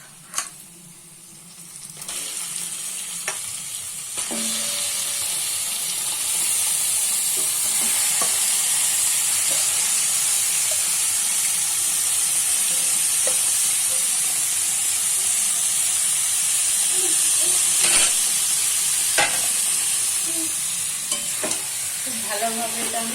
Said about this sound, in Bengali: আমি এটা কড়াইয়ের মধ্যে দিয়ে দেব।